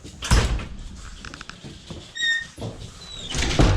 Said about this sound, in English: So we'll get in there and let the dogs come in.